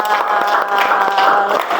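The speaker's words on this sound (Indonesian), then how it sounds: "Tepuk tangan dari kelompok" A classroom audience claps in a dense, steady round of applause after a group presentation, loud and close with many hands overlapping.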